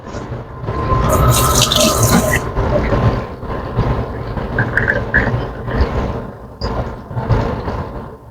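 Water poured into a cooking pot of humba-adobo with banana blossom, splashing and filling loudly for a couple of seconds, then trickling and clinking against the pot amid kitchen thumps.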